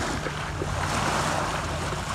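Waves break over shallow sandbars on the north end of Lake Mille Lacs, a steady broadband wash with wind noise, continuous and moderately loud without talk.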